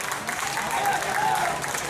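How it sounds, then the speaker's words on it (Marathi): Audience applause at a Bhim Jayanti festival dance programme in Chembur, a steady wash of clapping from a crowd filling the whole moment, moderately loud with no break. "सुंदर सर्व टाळ्या वाजवा"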